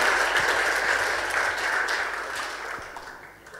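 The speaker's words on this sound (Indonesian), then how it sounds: "Beri tepuk tangan dulu." Church congregation applauding after a closing prayer, a dense, steady wash of many hands that stays fairly loud and gradually tapers toward the end.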